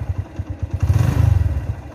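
A 2006 Honda Mega Pro motorcycle engine idles nearby with a steady, throbbing low putter and a light mechanical clatter that swells briefly midway, with no talk.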